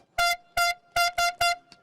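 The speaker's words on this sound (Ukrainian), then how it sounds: "Это для дудка для дальнобойщиков." A truck-style air horn mounted on a bicycle at a large city cycling event in Kyiv blares five loud, short, brassy blasts in a quick, uneven rhythm, close and alone.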